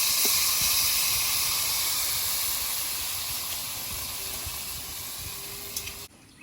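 Water poured into a pan of frying ridge gourd sets off a loud, steady hiss and sizzle that slowly fades over several seconds before cutting off, close up with no voices.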